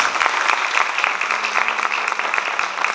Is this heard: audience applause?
yes